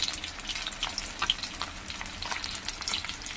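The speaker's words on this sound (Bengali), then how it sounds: "আমার মাছগুলো কিন্তু ভাজা হয়ে গেছে এবার আমি মাছগুলোকে তুলে নেব" Pieces of catla fish fry in oil in a pan, giving a soft, steady sizzle scattered with small pops and spits at moderate distance, with no talking.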